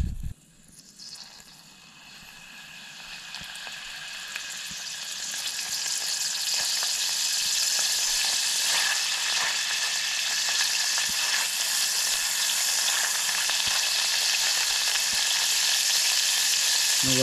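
Boiled grasshoppers fry in oil in a pan, a loud steady sizzle that swells after the first couple of seconds and holds with crackling spatter throughout.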